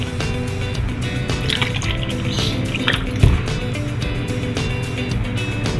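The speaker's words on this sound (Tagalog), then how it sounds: "Maglagay po ulit tayo guys ng tubig." Water trickles and drips steadily into pancake batter, with a dense low hum and clatter underneath; no one speaks.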